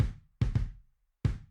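A MIDI kick drum processed with gentle FabFilter Saturn 2 saturation, sounding as a single hit, then a quick pair of thuds and another lone hit, each with a warm low body and short tail, alone and up front.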